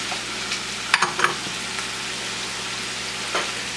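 Diced peppers and mushrooms sizzle steadily in a hot pan for a garbage omelette, a loud continuous frying hiss with a few sharp clicks and stirring knocks.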